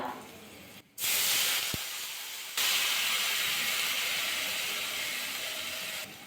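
Water poured into a hot pan of fried white sesame seeds and dried chillies, bursting into a loud, sustained steamy hiss that swells after a short pause and keeps roaring.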